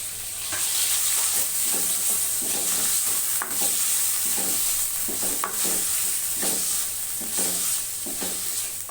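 Chicken frying in a pan with garlic for brown fried rice, a loud steady sizzle broken by repeated scraping stirs at a quick, irregular rhythm.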